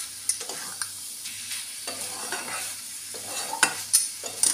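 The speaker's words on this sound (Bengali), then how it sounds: "নারকেল কোড়া দিয়ে একটু ভাজবো" Ridge gourd fries with grated coconut in a little oil and ghee, giving a soft, even sizzle under repeated scraping stirs of a spatula against the pan.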